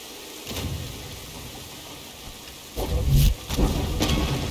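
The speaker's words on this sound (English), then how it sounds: "It still rains." Rain falls steadily in Star Wars Jedi Fallen Order, a continuous hiss with heavier rumbling surges like distant thunder, alone without talk.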